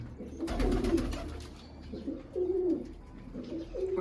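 Large pigeons of a Punjabi fancy breed, kept by a hobbyist, coo in repeated low throaty phrases, several separate bouts close by with faint chirps in the background.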